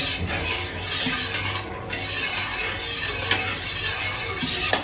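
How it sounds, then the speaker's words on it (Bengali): Milk heating in a pan on a gas stove, stirred without pause so it won't catch at the bottom: a continuous soft scraping and swishing with steady hiss and an occasional light clink, close and alone. "আর অনবরত নাড়তে হবে, না তো নিচে লেগে যেতে পারে।"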